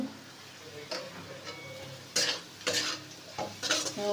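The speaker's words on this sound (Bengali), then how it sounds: "দিয়ে ভালো করে নেড়ে নিলাম।" Potatoes, onion, garlic, ginger and chilli frying with salt, stirred in a pan; quiet sizzling under intermittent scraping strokes and metal clinks of the spoon, several sharper bursts toward the end.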